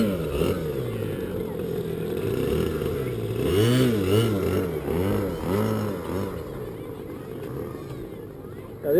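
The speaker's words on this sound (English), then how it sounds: "Now this airplane here, it weighs about 7 pounds, and it uses alcohol for fuel to power the engine." A seven-pound alcohol-fuelled model airplane engine buzzes and whines, its pitch rising and falling repeatedly as the plane passes overhead, with people talking in the background.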